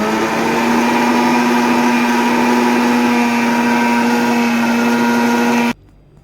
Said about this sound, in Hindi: अगेन हम 2 to 3 मिनट के लिए इसको बहुत अच्छे से बीट कर लेंगे।